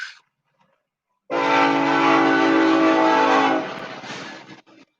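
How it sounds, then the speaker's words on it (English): A loud train rumbles past close by in Hardin, Montana for a few seconds, a steady roar that fades as it moves away, with no voices. "Train!"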